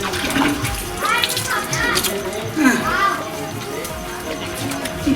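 Water runs and splashes as hands are washed with soap, a continuous close wash under lively voices of adults and children talking.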